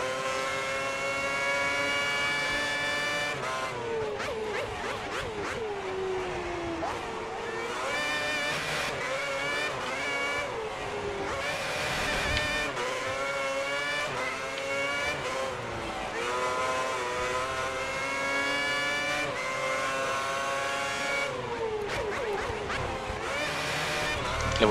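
Formula 1 car engine in the F1 2010 racing video game, with a steady high-pitched engine whine that climbs and drops through gear changes throughout, under someone speaking French.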